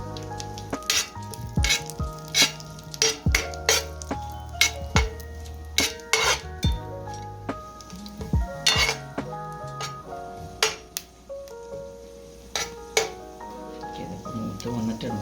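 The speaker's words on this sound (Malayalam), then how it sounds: "കാഷ്യൂസ് നമ്മളിടുകയാണ്." Cashews and coconut pieces sizzle in a frying pan while a spoon stirs and clinks against the metal in repeated sharp scrapes, steady hiss beneath the stirring.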